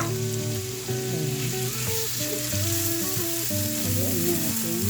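Onions sizzle steadily in a hot pan, a dense, continuous frying hiss heard close up under background music.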